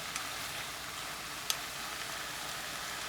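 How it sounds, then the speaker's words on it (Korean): Dried taro stems stir-fried in a pan give a soft, steady sizzle with a couple of faint clicks from stirring, quiet and continuous throughout. "토란대 넣고 2분 30초 볶습니다"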